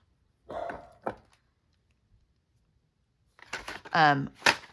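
A pet dog barks a few times at close range during a craft haul at home, with a short burst early, a quiet gap, then several louder barks near the end.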